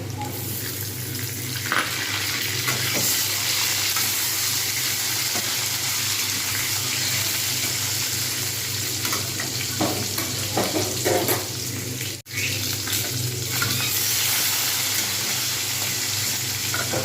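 Cabbage curry with tomatoes sizzles and fries in a pan while being stirred, a steady loud hiss of frying with scraping, clattering stirs throughout and one sharp knock near the end.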